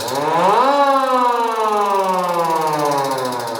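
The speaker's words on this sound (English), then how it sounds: "This is an air raid siren" A hand-cranked air raid siren in a colliery headstocks museum winds up quickly to a loud, sustained wail that holds steady and slowly sags in pitch, with no voices.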